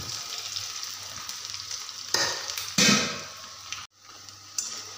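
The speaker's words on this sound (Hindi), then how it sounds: "आपां तेल गर्म है। हुण आपां गोभी पा देंगे इहदे विच ठंडी तां कि ज़्यादा क्रिस्पी बने" Cauliflower pakoras sizzle and crackle in hot oil, a steady bubbling hiss that surges louder as pieces are stirred, then briefly cuts out before resuming.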